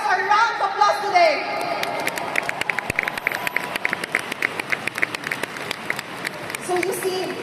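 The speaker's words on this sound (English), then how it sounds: "Can we all give ourselves a round of applause today?" Audience at a leadership training seminar in the Philippines claps and cheers, a dense, fairly loud wash of hand claps with crowd voices and shouts mixed in, continuing steadily throughout.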